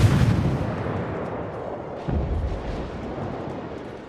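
Naval gun salvos from a Japanese cruiser in World of Warships, two deep booming blasts about two seconds apart, rumbling and fading after each shot.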